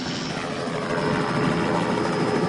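A local police helicopter flying over the ocean during a drug-boat search, its rotor and engine a steady, fairly loud broadband roar with a faint high whine and no voices.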